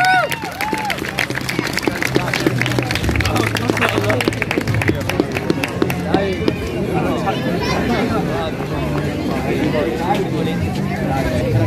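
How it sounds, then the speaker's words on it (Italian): Loud, sustained applause from a crowd for a live band at a San Martino celebration in Venice, Italy, dense clapping with cheers and chatter mixed in, continuing throughout. "Facciamo un grande applauso"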